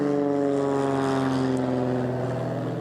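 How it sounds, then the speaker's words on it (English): A propeller plane takes off from Oceanside Airport near a brush fire area, its engine a loud, steady droning hum with layered tones that holds throughout and fades slightly toward the end. "A plane from Oceanside Airport just took off as you were tossing to me."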